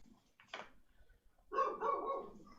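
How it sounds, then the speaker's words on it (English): A dog in a video game gives a short sharp yelp, then after a pause a longer, louder run of whining, bark-like calls, heard fairly close against a quiet background. "Kill that dog."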